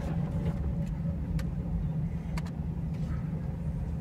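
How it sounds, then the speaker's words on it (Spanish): Car engine running steadily during a driving lesson, a continuous low rumble with a faint whine, close and fairly loud, with a few light ticks on top and no clear rise in revs. "sacándole clutch despacio y acelerando lo despegas bien"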